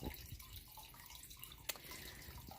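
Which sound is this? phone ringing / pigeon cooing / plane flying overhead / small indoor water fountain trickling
small indoor water fountain trickling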